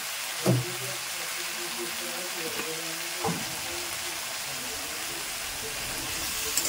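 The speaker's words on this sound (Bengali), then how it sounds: "তো এটা একটু আমি কষিয়ে নেব।" Paneer, broccoli and potato tossed in spiced oil in a pan give a steady low frying hiss, with a couple of brief utensil knocks near the start and a faint voice in the background.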